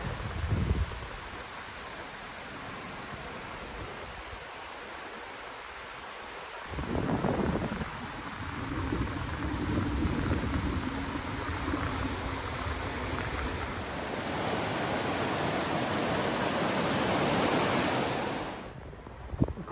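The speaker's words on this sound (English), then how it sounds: "The Clackamas River is just beyond these burnt trees" Broad, steady rush of the Clackamas River flowing somewhere past a stand of burnt trees, heard as a continuous hiss that swells louder toward the end, with some wind buffeting and no voices.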